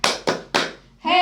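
A group gives a patterned cheer clap during a community training session: three sharp, loud rounds of hands clapping together, then a burst of chanting voices.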